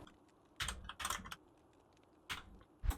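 Keys clack on a computer keyboard in a few quiet, separate bursts of presses with short pauses between them, close and otherwise silent.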